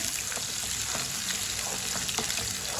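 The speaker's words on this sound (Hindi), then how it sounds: "बारीक कटा हुआ एक प्याज डालेंगे। प्याज को अच्छी तरह ब्राउन कर लेंगे।" Finely chopped onion frying in about three spoons of oil for moong dal, a dense, even, loud sizzle close by with faint crackles and no speech.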